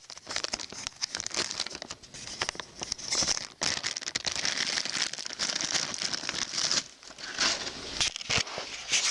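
Packaging around a new GY6 clutch part for a 150cc engine crinkles and tears almost without pause as it is unwrapped up close, loud and busy with a brief lull partway through.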